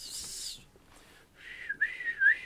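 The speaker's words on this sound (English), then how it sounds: "But I can regular whistle." A person whistles with the lips, not the fingers, producing a few short clear notes, some rising and warbling, close and moderately loud.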